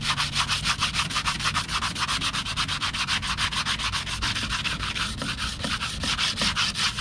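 Sandpaper rapidly buffs both sides of a new drywall knife's steel blade, a close, loud back-and-forth scrubbing in a quick, even rhythm that never stops, with no talking.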